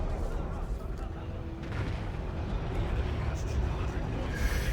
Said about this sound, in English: Probably Ranger shots.